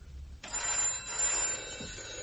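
A telephone bell rings loudly and steadily in an old-fashioned British setting, a continuous trilling ring that starts after a brief quiet moment and carries on without talk.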